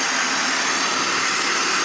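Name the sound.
BMW 530i inline six-cylinder engine running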